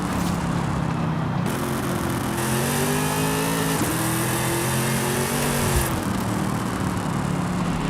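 Tuned Camaro drag car built to 1,000 horsepower, revving in Forza Horizon 5; a loud, continuous engine note with rising and falling harmonic sweeps as the revs climb and drop, heard alone.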